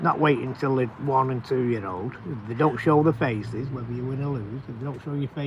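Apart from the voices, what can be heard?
No everyday noise stands out behind the speech.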